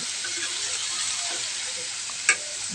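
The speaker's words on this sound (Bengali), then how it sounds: "ইলিশ মাছ দিয়ে দিলাম এখন এটা একটু নাড়াচাড়া দিয়ে আমি একটু মশলাটা একটু গার সাথে মিশাই নেব" Hilsa fish pieces sizzle steadily in spice paste in a pan, a dense even frying hiss with one brief clink of a stirring utensil near the end.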